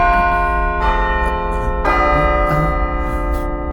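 A clock bell strikes midnight with deep, ringing tolls, loud and close, each strike sounding at roughly one-second intervals over the sustained hum of the previous chime.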